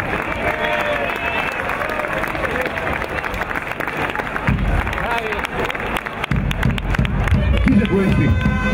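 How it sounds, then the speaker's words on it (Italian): An audience applauds at a carnival award ceremony for masks, groups, floats and bands. The clapping is loud and continuous, forming a dense wash of sound with crowd noise throughout. "Un applauso alla compagnia Lampo."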